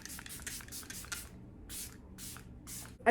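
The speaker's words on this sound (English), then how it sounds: "you just spray right on." A Hero Force Shield Supercharged Reset facial mist bottle sprays in quick hissing bursts, five rapid pumps followed by three more spaced puffs, close up with a quiet background.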